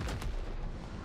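A sticky bomb explodes in a wizard-class video game, a loud, sharp blast at the start followed by a rumbling, noisy tail that fades slightly over about a second, with no voices.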